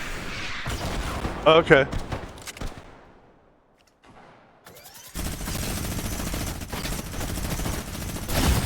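Fortnite solo match gunfire bursts out in sharp volleys, drops into near silence for a moment, then resumes as a dense, sustained stream of shots, with a brief spoken word in between.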